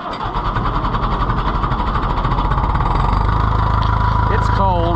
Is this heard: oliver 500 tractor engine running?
yes